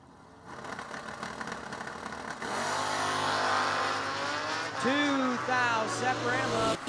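An engine idles and then rises into a loud, sustained roar at a drag racing event, with a voice announcing over the engine noise partway through.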